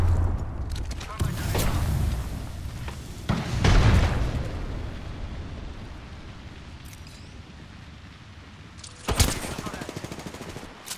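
Grenade blast and bursts of gunfire in the video game Apex Legends: a heavy boom early on, scattered shots in the middle, and a second sharp burst near the end, all loud and close.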